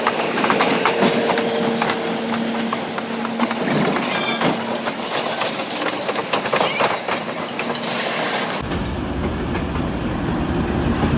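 A passenger train on a Pakistani railway line slows toward a station stop, rumbling loudly with rhythmic clickety-clack of wheels over rail joints, metallic squeals and a sudden shift in tone near the end.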